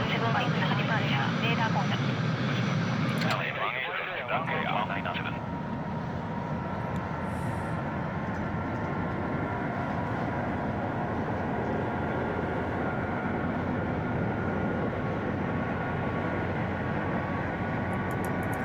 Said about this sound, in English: These engines starting up.